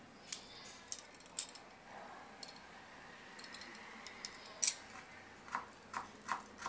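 A potato is peeled on a kitchen counter, giving faint, scattered scraping clicks and short rasps at irregular intervals against a quiet background.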